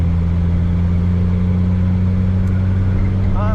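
A 1946 Packard Clipper Six sedan cruises on dry winter roads in Minnesota with a loud, steady engine drone and a low hum inside the cabin, holding an even pitch throughout with a brief rising tone at the very end.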